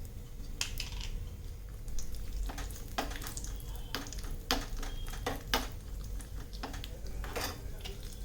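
Cashew nuts fry in ghee in a pan for a sweet potato kheer, giving a soft, continuous sizzle broken by repeated sharp clinks and scrapes of a spoon stirring against the metal, with no talking.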